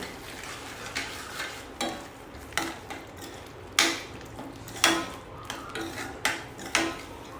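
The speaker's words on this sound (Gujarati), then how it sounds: "પ્રોપરલી મિક્સ કરી લઈશું" A spoon stirs a dhaba-style paneer gravy made with grated paneer and no onion in a pan, giving repeated scraping knocks about once a second over a faint sizzle, close and clear, with no talking.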